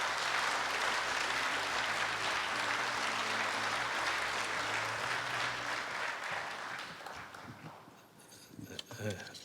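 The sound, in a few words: audience applause welcoming speaker at ceremony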